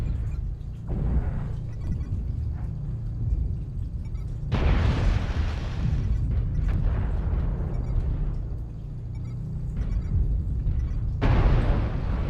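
Airstrike explosions in a mech combat video game rumble as low, heavy booms, with sharp blasts erupting around 4.5 and 11 seconds amid a sustained dull roar.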